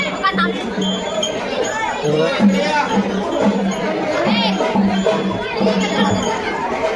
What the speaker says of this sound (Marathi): बघा भरपूर गर्दी मित्रांनो